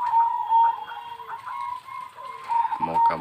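A Moka Majapahit zebra dove (perkutut) coos in a tonal, repeated pattern, its calls fairly close and clear against a quiet background, with a brief rougher sound near the end.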